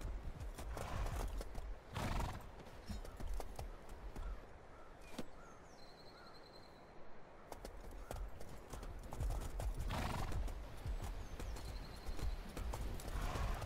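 Horses in the War of the Roses video game gallop and clip-clop in bursts, with a whinny partway through, over a busy battlefield background and occasional faint voices.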